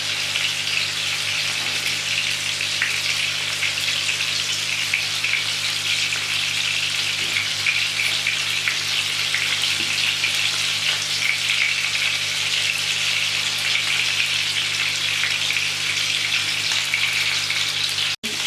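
Fish pieces frying in a pan over medium-low heat, giving a steady, dense sizzle that holds evenly for the whole stretch with no talking.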